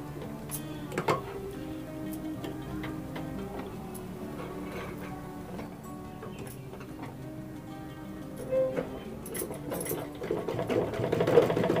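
A sewing machine stitches a blouse seam with a steady, rapid mechanical ticking and whirring that runs continuously, quickening and growing louder toward the end, with no talking.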